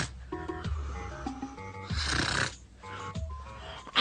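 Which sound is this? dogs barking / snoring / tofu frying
snoring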